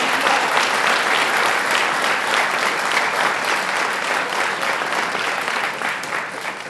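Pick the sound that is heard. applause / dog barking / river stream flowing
applause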